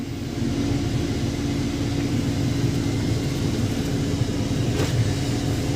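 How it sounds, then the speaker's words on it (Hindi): Wheel loader diesel engine idling steadily after starting, a continuous low rumbling drone, close and even throughout, with no talk. "ये हमारा मशीन हो गया स्टार्ट"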